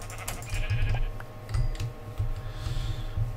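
Sheep bleat in Minecraft, several short repeated calls close by over a steady low game hum and light clicking.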